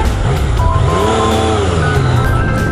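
Yamaha XSR900 motorcycle on a test ride, a loud engine note climbing and falling in pitch over steady wind and road noise.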